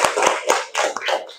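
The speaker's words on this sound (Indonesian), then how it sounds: "tepuk tangan buat kita semua" A class of students claps together in a short, rhythmic volley of several sharp, loud claps, heard close.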